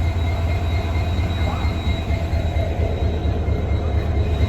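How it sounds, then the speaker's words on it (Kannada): A goods train's engine and wagons rumble loudly and continuously nearby, a deep steady drone with a faint metallic whine above it and no talk. "ವಾಯ್ಸ್ ಏನೂ ಕೇಳಿಸ್ತಾ ಇಲ್ಲ ನಿಮಗೆ, ಇಂಜಿನ್ ಸೌಂಡ್ ಐತೆ."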